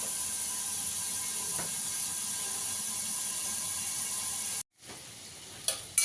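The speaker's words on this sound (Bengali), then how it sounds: "ঢাকা দিয়ে আলুটা ভেজে নেব।" Potatoes frying in oil under a lid, giving a steady sizzling hiss that cuts off abruptly near the end, then returns more quietly with a few brief clinks.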